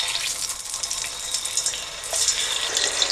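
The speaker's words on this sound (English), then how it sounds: "as you can see it's bubbling quite hard" Potatoes fry in hot oil, a dense steady hiss of hard bubbling and sizzling up close that holds without pause for the whole stretch.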